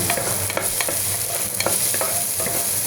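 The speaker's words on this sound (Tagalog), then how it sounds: "Para malasa yung gulay, gisa natin ng kaunti yung bawang." Garlic sautés in a small amount of oil in a pan, with a steady close sizzle and scattered stirring scrapes throughout, and no talk over it.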